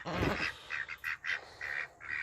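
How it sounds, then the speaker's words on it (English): Ducks quacking in a series of short nasal calls, several bursts in quick succession, fairly close and clear, at morning feeding time on a small farm. "Good morning, ducks. You guys hungry?"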